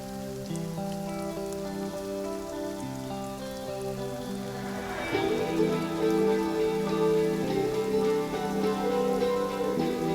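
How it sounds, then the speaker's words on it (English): Artificial rain falls in the video game Path To Nowhere, a steady patter of drops on surfaces beneath sustained melodic game music that grows fuller halfway through, with no voices. "The rain is artificial too, a decontamination measure of the city."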